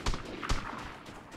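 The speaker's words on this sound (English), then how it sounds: "I think I just got sniped at just now." A single sharp shot, likely a sniper rifle, cracks at close range in the multiplayer shooter Vigor, followed by a second fainter report and a decaying tail.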